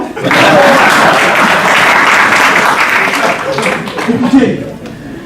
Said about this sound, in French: M'applaudissez, non?